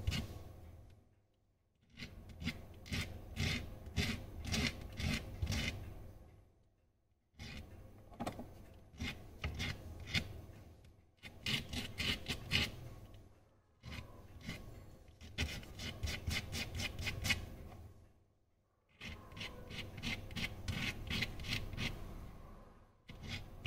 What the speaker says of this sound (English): we can shape the end to a taper using a sandpaper, or rather I think I'll give it a curve.